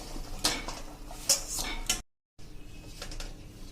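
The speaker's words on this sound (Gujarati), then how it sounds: "તો આપણે જો થાળી પણ બહાર લઈ લઈ" A metal thali holding freshly steamed cow-colostrum bari is taken out of the pot, with several sharp metallic clinks and clatters close up, followed by a short silence and faint handling noise.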